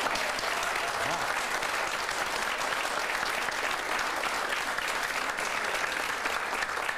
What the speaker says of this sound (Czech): Jak zní potlesky v divadle Semafor?